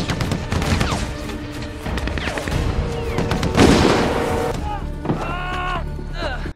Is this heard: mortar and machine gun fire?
yes